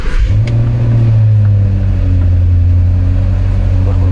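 Range Rover Sport engine running steadily close by with a deep low rumble, a brief rise in revs near the start, then holding a strong even drone without speech.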